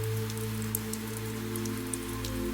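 Steady rain patters on the car during a highway drive, with scattered droplet ticks over a constant low engine and road hum.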